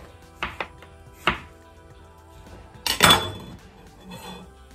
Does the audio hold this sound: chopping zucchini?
yes